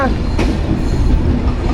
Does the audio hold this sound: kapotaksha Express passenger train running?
yes